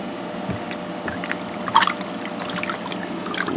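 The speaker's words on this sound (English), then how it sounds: "Use her water to wash my hands off a little bit" Water is poured over hands to rinse them off, a quiet trickle broken by a few small splashes and drips close by against a soft background hiss.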